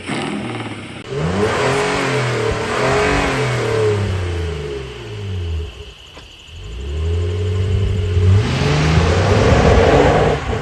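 A 2025 Honda Ridgeline TrailSport engine revs up hard and loud several times, pitch climbing in sweeping rises, falling back briefly near the middle before surging again, with no talking.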